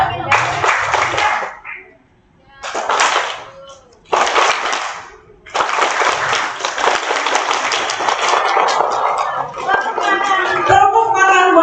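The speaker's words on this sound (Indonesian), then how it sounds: "Tepuk tangan buat kita semua." Seminar audience of women workers clapping in several bursts, separated by short gaps, then continuing steadily with chatter and a voice speaking over the tail, close and lively.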